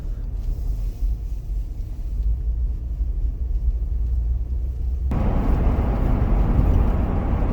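A 5th-generation Toyota 4Runner drives along a dark road, its steady low engine and tire rumble filling the interior, growing noticeably louder and rougher partway through.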